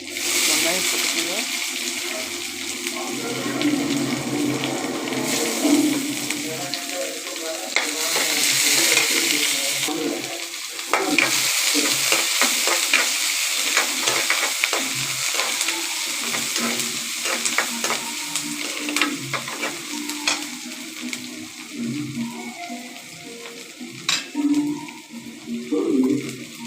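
Onions sizzle and crackle in a hot pan with mustard seeds, fennel and garlic, stirred with scraping strokes while water runs briefly in the background and a voice talks over the cooking.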